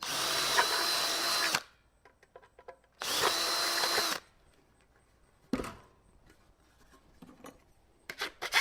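A power drill fitted with a 1/8 inch bit working on a custom computer case, two loud whirring bursts of about a second and a half each, separated by quiet handling clicks, then a short third burst.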